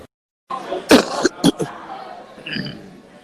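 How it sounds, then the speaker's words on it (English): A raspy smoker's cough, three rough hacking bursts close to the microphone, then a short throaty vocal sound. "Got a smoker's cough."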